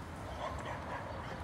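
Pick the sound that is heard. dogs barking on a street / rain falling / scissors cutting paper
dogs barking on a street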